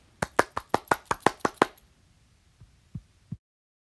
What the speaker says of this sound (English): They started dribbling with their hands as the crowd clapped.